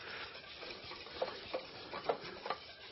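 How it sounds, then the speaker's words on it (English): Quiet, steady whisking in a bowl, with soft rhythmic scraping and a few slightly sharper taps toward the end. "Let me go ahead and whisk that just a little bit more."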